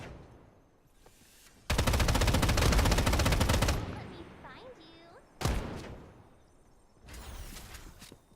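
The player's gun firing in a video game: a loud sustained automatic burst, then shorter bursts later, mixed with other game noises and a voice talking.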